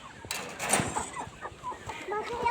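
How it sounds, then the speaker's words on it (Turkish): A scattered flock of young hens, not yet laying eggs, cluck and murmur nearby, with short clucks and soft calls overlapping against background noise. "Baksanıza arkadaşlar bir sürü tavuğumuz var."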